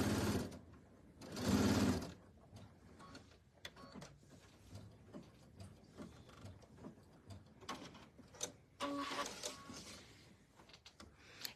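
A sewing machine stitches a quarter-inch seam along the edge of a pillow top, running in short bursts of close mechanical whirring with brief pauses between runs.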